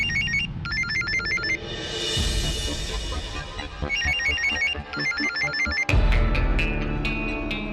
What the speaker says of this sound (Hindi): विहान की रिंगटोन है।